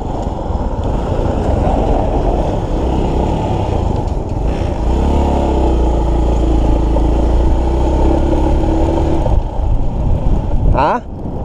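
A Suzuki GD 110 motorcycle riding fast, its engine droning loud and close with wind rush, a steadier higher engine tone settling in partway through, and a brief sharp sweep near the end, with speech mixed in.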